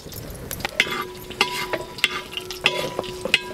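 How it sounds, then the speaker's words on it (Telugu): Onion slices and slit green chillies hitting hot oil for chicken dum biryani, a steady close sizzle broken by sharp clinks of a metal spoon stirring the pan every half second or so. "నూనె అయితే కాగింది, ఇందులో ఉల్లిపాయ ముక్కలు వేసుకుంటున్నాను"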